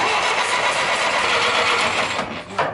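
A 1955 Jeep CJ5 engine cranks with a steady, loud churning and near the end catches briefly for a moment before dropping off.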